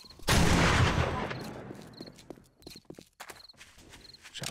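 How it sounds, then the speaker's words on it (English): A shotgun blast in the survival game 7 Days to Die, a single loud boom with a long rolling decay that settles into quieter scattered thuds and clatter. "Shotgun is loud as hell, man."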